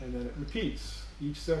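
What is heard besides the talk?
No everyday noise stands out behind the speech.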